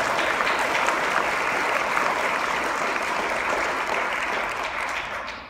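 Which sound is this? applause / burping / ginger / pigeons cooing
applause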